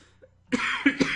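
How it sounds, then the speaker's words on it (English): Three sharp, close coughs from one person come in quick succession, harsh and loud after a brief quiet moment. "hopefully I can get rid of this cough sometime soon"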